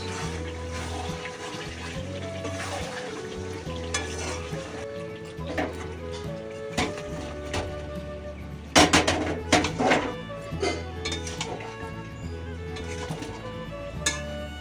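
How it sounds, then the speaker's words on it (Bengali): Biryani with potatoes stirred in a pot: scattered metallic clinks and scrapes of a spoon against the pot cluster near the middle, over a continuous tonal background hum. "আলুটা দিয়ে আবার আমি একটু নেড়ে নিলাম"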